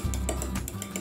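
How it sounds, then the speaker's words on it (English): Four eggs being whisked in a bowl, a quick rhythmic series of light metallic taps and swishes close by, with no talking. "Whisk it up."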